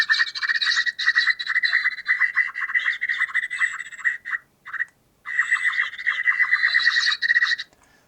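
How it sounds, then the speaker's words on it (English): Songbirds and a cuckoo call in an outdoor recording, a dense, continuous chatter of high, buzzy chirps that breaks off briefly near the middle, then resumes, fairly close and loud with no voices. "there's songbirds, and there's also a cuckoo in there."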